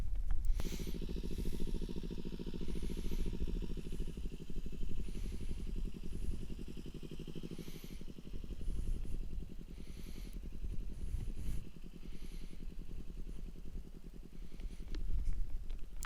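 A motorcycle picks its way slowly through a slalom on a licence-test practice area, its engine holding a low, steady mid-pitched drone with small throttle blips and faint clatter, kept at a modest, even level throughout.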